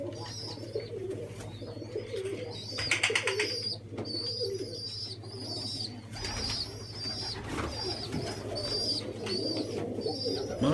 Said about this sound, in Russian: Видите, как голуби купаются.